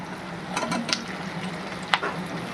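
Capsicum sizzles and hisses in a hot pan with spicy chilli soya chunks, a steady close frying crackle with a few sharp stirring clinks.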